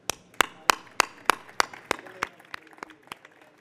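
Sparse, evenly spaced sharp claps ring out at a tourism directorate event, roughly a dozen slow hits fading in strength, more like a few people clapping in rhythm than a full audience.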